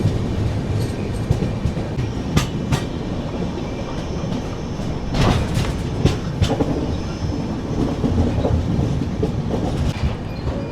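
The Tirumala Express, train 18522, rolls along a single-line track near Erraguntla Junction with a loud, continuous rumble, rhythmic clickety-clack of wheels over joints and occasional sharp metallic clanks, heard from on board.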